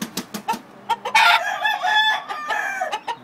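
A gamecock, a cross of Talisain regular gray and Black Bonanza battle breeding, crows loudly and close by in one long drawn-out call, preceded and followed by short clucks and scratchy bird sounds.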